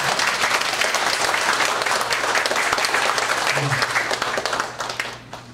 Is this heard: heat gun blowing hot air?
no